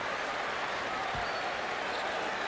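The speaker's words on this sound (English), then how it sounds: "The entire crowd on its feet." A sellout basketball arena crowd stands and applauds, a dense continuous roar of clapping and cheering that stays loud and steady throughout.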